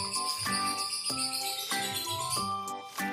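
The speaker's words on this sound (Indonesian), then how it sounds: "Ada suara burung teman-teman." A toy plays an electronic bird-call tune, a bright repeating chirping melody in regular bursts that sounds close and loud, with no voices.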